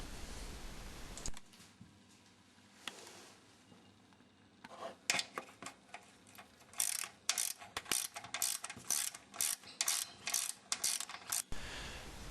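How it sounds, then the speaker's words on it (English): A hand ratchet backs out 10mm head bolts from a side panel on a Can Am Spyder RS SM5. Quick clicking bursts come up close after a quiet start, with pauses between strokes. "I just take the two 10mm head bolts out and then the screw."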